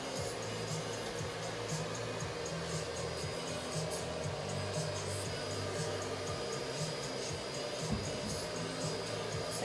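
A hair dryer blows steadily on moderate-volume hair, a continuous airy whoosh with a low motor hum, holding even loudness for the full stretch with no talking.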